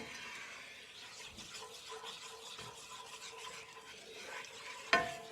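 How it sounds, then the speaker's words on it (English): A spoon scrapes and swirls steadily through roux in a pot for seafood gumbo, a soft continuous stirring with faint sizzle, ending on a single sharp clink near the close. "so it's just a matter of continuously stirring throughout"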